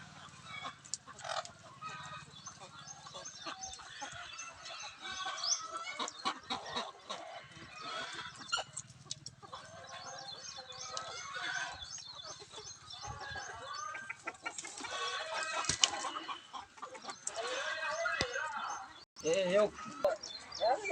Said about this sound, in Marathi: त्या साईडला मोठा आवाज येतोय कोंबड्यांचा